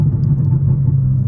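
A tuned 900bhp BMW M4 idles close by with a deep, steady rumbling exhaust, a continuous low burble and no voices.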